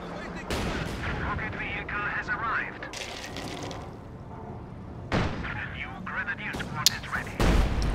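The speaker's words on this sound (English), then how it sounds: "Use more smoke from the mortars." Mortar and artillery fire in a video game: heavy booms and bursts of gunfire roll through most of the stretch, with a loud impact near the end and talk heard alongside.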